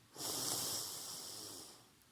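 A single deep inhalation during a sophrology relaxation exercise, a close, breathy rush of air rising quickly and slowly tapering over about two seconds, with no talking.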